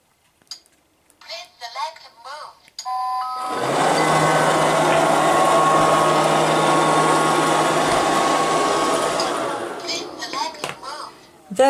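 A Liectroux B3000 robot vacuum cleaner running on a laminate floor gives a steady loud whirring drone for several seconds, with clicking and rattling of debris being picked up, framed by brief bursts of talk before and after.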